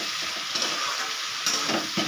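Amodi fish fries in a pan with salt, turmeric and chili powder while being stirred, giving a continuous hissing sizzle with a few soft scraping strokes.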